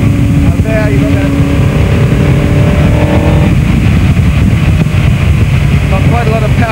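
A racing car's engine roars loud and close while lapping a track, with a harsh continuous drone and rising and falling pitch as it accelerates and changes gear.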